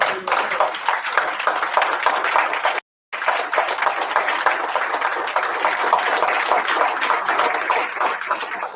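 Loud, sustained applause from a large symposium audience honoring Cuban women former political prisoners, many hands clapping continuously, broken by a brief moment of silence before the clapping resumes.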